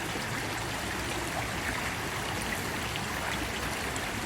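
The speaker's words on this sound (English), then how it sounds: "Now, you'll notice that we did pick a spot that the water's not swiftly moving." Water flows in a slow stretch of a Smoky Mountain river, a continuous even rushing and burbling that stays constant and fairly close, with no one speaking.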